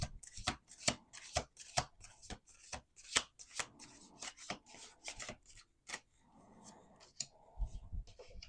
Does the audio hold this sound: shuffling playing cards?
yes